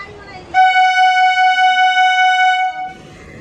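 A train horn at Dum Dum station blares loud and close in one sustained, steady blast of about two and a half seconds, cutting sharply over the quieter platform hubbub before it.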